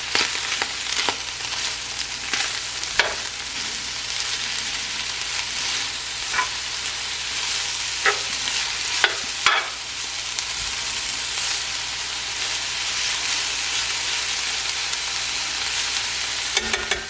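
Hot and sweet peppers sizzle loudly in a pan, a constant bright hiss with occasional scrapes and knocks of a utensil stirring, close up with no voices.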